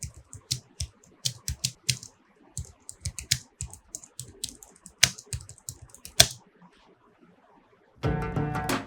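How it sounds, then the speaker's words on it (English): Typing on a backlit wireless computer keyboard, heard alone and close up: uneven bursts of crisp key clicks with short pauses between them. "Of course, the sound of the keyboard is something like this."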